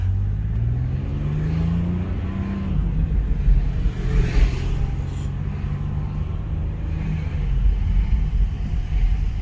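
A 2019 BMW 440i xDrive Gran Coupe with an MPPK tune accelerating from a light, heard from inside as a steady low engine drone with rising pitch and road rumble, with no talk.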